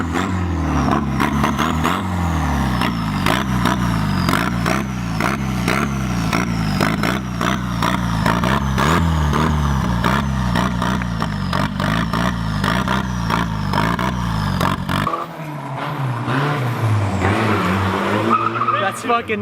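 Turbocharged Mazda Miata engine running loud and close, revving up and down repeatedly with a boosted rasp and tire noise, then dropping away near the end, with excited voices over it.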